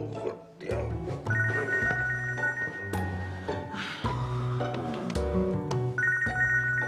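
A telephone rings indoors in repeated high electronic bursts that come and go, mixed with background music and other sounds, and voices are present at times.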